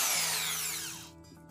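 A power drill fitted with a 6 mm bit runs at high speed with a loud, bright whine that winds down and fades over about a second. No one speaks.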